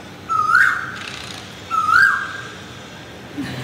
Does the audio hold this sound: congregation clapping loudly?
no